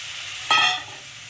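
Cut bottle gourd pieces drop into a frying spice paste, setting off a sudden loud hiss that fades within a fraction of a second.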